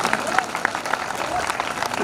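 Applause from a crowd at a comedy poets' gathering during a fair, a steady wash of clapping with a few sharper claps standing out, mixed with some crowd noise.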